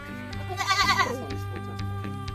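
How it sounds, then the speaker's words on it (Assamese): A goat at a goat farm by the Dihing River gives one wavering, nasal bleat close by, followed by a few soft clicks and knocks in a quiet setting. "এইটো ছাগলী"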